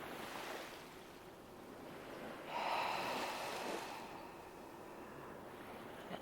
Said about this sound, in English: An audible exhale